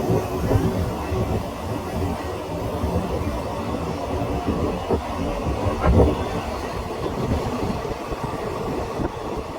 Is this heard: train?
yes